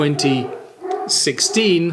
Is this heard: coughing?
no